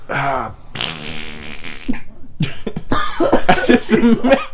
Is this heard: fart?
yes